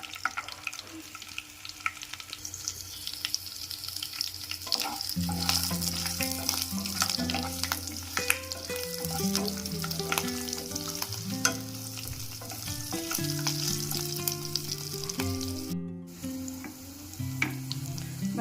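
Chili, cumin and cashews frying in a pan for jeera rice, a steady hot sizzle with stirring scrapes and clinks of utensils throughout, close and moderately loud.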